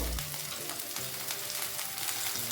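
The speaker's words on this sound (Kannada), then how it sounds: "ಫಸ್ಟ್ ಇದನ್ನೆಲ್ಲ ಹೈ ಫ್ಲೇಮಲ್ಲಿ ಫ್ರೈ ಮಾಡ್ಕೊಳ್ಬೇಕು." Ginger, garlic, coriander stems and a dried chili frying on high flame for tomato soup, a loud, continuous close sizzle with faint stirring, no talking.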